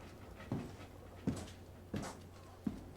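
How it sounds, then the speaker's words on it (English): A puppy from a litter gives four short, soft whimpering cries at regular intervals, faint and close, with no talking. "Is it a puppy crying for its owner?"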